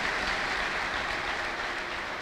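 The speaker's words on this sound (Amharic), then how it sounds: "እስቲ አጨብጭቡ ለጌታ ለኢየሱስ ክርስቶስ ክብር" Congregation in a church clapping together, a dense steady patter of many hands, loud and close with no voices over it.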